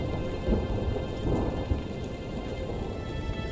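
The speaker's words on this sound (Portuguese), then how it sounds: "substituindo-a por trovões retumbantes e chuvas torrenciais" A monsoon thunderstorm over the Grand Canyon, with torrential rain roaring steadily and deep rumbling thunder rolling underneath, loud and continuous with no voices.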